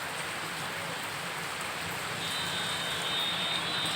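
Heavy monsoon rain in Siliguri pours down as a dense, continuous hiss of drops on surfaces, steady and enveloping with no voices, a faint engine-like drone layered underneath.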